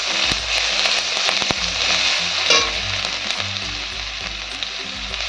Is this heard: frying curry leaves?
yes